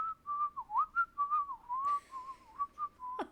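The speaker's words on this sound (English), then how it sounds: "Did you start whistling at your players" A person whistles a wavering, continuous tune up close, the pitch gliding and bending in short connected phrases, with no talking over it.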